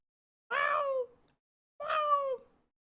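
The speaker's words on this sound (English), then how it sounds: "She's meowing at me now." A pet cat meows twice at close range, two clear drawn-out calls separated by about a second of silence.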